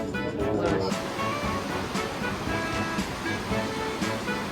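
A waterfall roars steadily beside a hot spring hotel terrace, a dense, even rush of falling water with a breeze, continuous and close.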